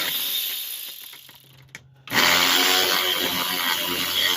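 A ratchet works the two 10mm bolts off a fan shroud under a 2003-2005 Lincoln Aviator with the 4.6L V8. A few quick clicks come first, then a loud, dense mechanical whirring that fills the rest close up, with no talking.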